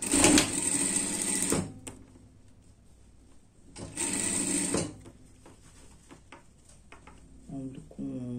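A sewing machine stitches the sleeve seam of a dress in two loud bursts of fast whirring, each lasting about a second and a half, separated by quieter handling and mechanical clicks.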